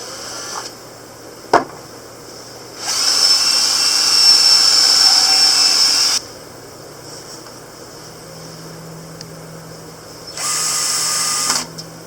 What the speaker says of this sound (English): then you're going to pre-drill from the outside of the 2x4s